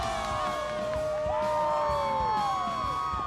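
A big stadium crowd at a 2021 Notre Dame versus Virginia Tech college football game in Blacksburg keeps up a steady roar, with whistle-like tones sliding over the noise.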